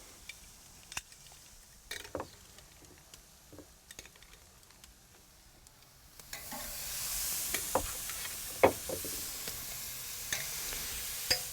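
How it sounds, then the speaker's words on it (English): Steaks and shrimp sizzling on a 400-degree grill set up for two-zone cooking, starting quietly with scattered clatter, then a steady loud hiss spreading in partway through with occasional pops and crackles. "So let's go ahead and put these on the grill."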